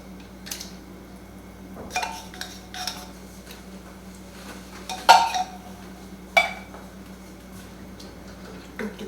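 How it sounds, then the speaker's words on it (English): A utensil stirs chicken thighs with bacon, mushrooms, heavy cream and coconut cream in a pan, giving sparse, light clinks and scrapes against the metal, a few sharper knocks standing out over a quiet background. "Give that a stir."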